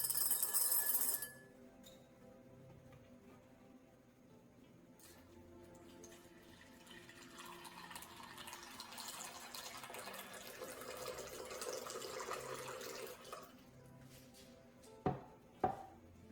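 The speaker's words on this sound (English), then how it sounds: "Soak peas in tap water for 6 hours." Tap water runs into a container of dried peas set to soak, a soft, quiet trickle and gurgle that builds gently in the middle, with a brief hiss at the start and a couple of small knocks near the end.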